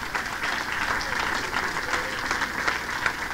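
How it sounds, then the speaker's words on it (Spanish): A church congregation applauds, a sustained wash of many hands clapping at moderate volume with a roomy, slightly distant feel, steady for several seconds with faint voices mixed in. "Dale ese aplauso fuerte al Señor."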